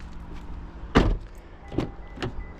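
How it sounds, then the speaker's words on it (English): Inside a 2025 Toyota Camry hybrid, the hood release gives one sharp pop followed by two softer clunks, heard close in a quiet cabin. "Pop the hood."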